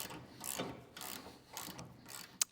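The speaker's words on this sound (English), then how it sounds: "we'll tighten it up the rest of the way with the wrench" A wrench ratchets in short bursts while tightening the bolt on an e-bike rack with a ramp, several quick clicking runs spaced about half a second apart, ending in one sharp click.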